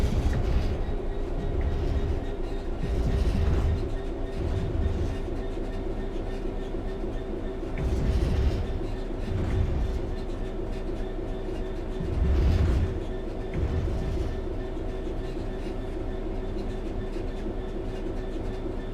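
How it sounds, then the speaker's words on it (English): Train coasting on level ground in Train Sim World 3, a continuous rolling rumble with a steady hum and periodic swells of rhythmic clickety-clack from the wheels, heard alone throughout. "The train will then coast on level ground, and the train will only slow down very gradually."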